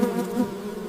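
A dense, steady hum of a large honeybee colony in its hive, thousands of bees droning together, close and continuous with slight swells in loudness.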